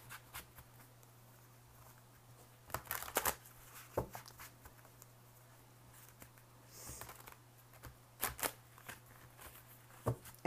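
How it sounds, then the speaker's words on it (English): Tarot cards shuffled by hand in quiet bursts of riffling and soft slaps, with a faint steady hum underneath and no talking. "I'm going to go ahead and shuffle for your general cards."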